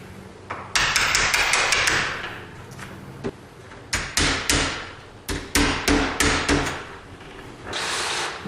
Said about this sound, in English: so that we don't split the door out when we start to chisel